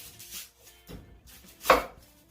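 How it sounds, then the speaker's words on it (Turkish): A knife cuts an onion into quarters on a board for lentil soup, three distinct chops spaced apart, the last one loudest, with quiet gaps between. "Soğanı dörde bölüyoruz."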